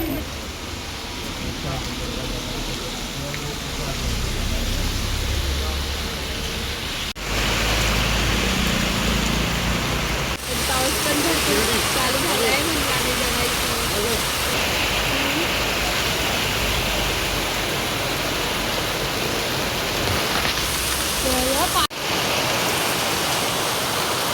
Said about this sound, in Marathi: पाऊस पण लई पडला आणि आम्ही भिजलोय